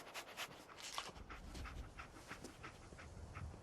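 A dog companion in the Fallout 4 video game pants in quick, soft rhythmic breaths, close and fairly faint with no talk over it.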